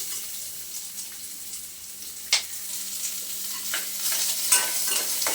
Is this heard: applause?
no